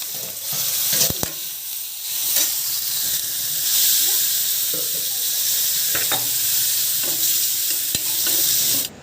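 Whole spices for a dry potato and pointed gourd curry sizzle and fry steadily in hot oil, a continuous loud hiss broken by a few stirring clinks and taps.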